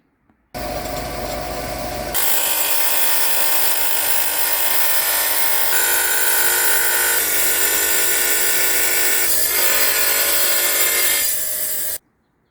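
A wet tile saw cuts through tile in one long steady pass, a loud continuous grinding whine that starts abruptly, holds for about eleven seconds with slight shifts in pitch, then stops.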